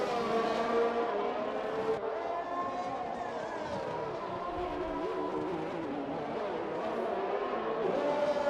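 Race cars in a racing video game roar continuously with shifting engine pitch and tire noise as they overtake, steady and moderately loud throughout.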